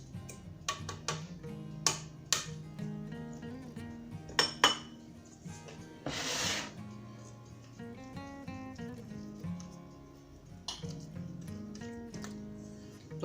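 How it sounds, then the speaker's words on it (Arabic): Metal utensil clinking and scraping against a bowl as two chocolate soufflé mixtures are folded together, with irregular taps and chinks and a short whoosh in the middle. "Donc je mélange les deux préparations."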